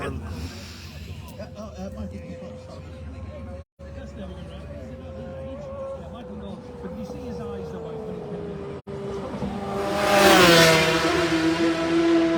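Near the Schoolhouse corner during Isle of Man TT 2023 qualifying, a superbike or superstock racing motorcycle screams past at speed, its engine note rising loud near the end. Commentators talk over a background of crowd murmur.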